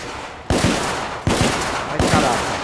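Three loud, sharp revolver shots in the video game The Order: 1886, evenly spaced about three-quarters of a second apart, each followed by a short decaying tail.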